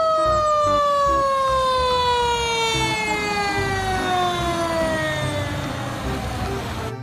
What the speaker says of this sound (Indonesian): Ada mobil fire truck.